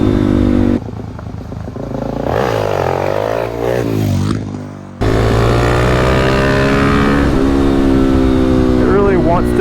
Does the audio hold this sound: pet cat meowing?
no